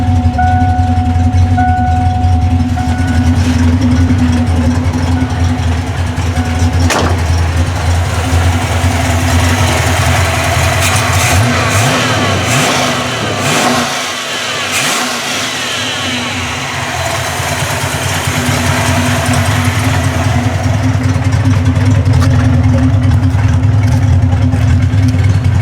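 Ford Mustang engine running loud and close, a steady rough idle that swells into revving and settles back, continuous throughout with no talking.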